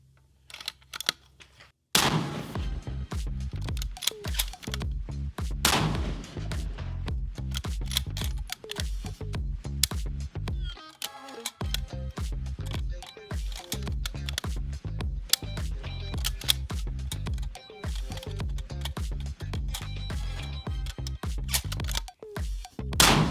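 Five unsuppressed precision rifle shots fired from a bare muzzle with no muzzle device, each a sharp, loud crack spaced a few seconds apart, with clicks and handling noise between them and no talking.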